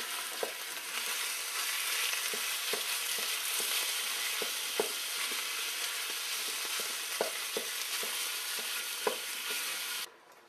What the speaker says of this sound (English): I'm going to stick that in there, in my wok, and get that cooking.